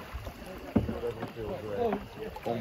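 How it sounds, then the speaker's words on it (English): Paddles stroke and splash in river water beside a boat on a whitewater trip from Escalante, with uneven sloshing and a sharp splash, while people talk and shout over wind and moving water. "Stick your paddle in all the way. Reverse it. Reverse it. Alright, paddle backwards."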